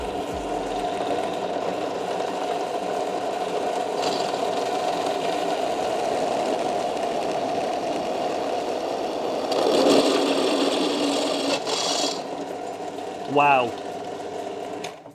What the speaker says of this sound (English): I'm just sticking the drill press here to see if we can cut through this very solid center stand